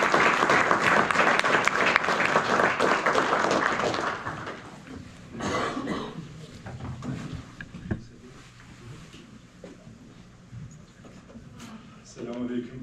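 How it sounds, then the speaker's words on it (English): Audience applause welcomes a guest speaker at a talk, loud for about four seconds before fading into scattered claps and room noise, with a voice briefly speaking near the end. "Let's give a round of applause to him."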